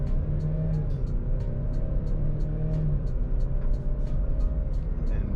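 A 2021 Ford Explorer XLT with a 2.3-liter EcoBoost engine accelerates on a test drive, a steady low engine drone and road rumble heard from inside the cabin, with faint rhythmic ticking above it.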